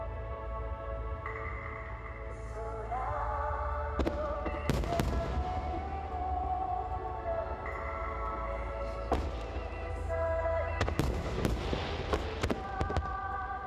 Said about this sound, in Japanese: 2日間で2万発の花火が戦災から80年目の夜空を彩りました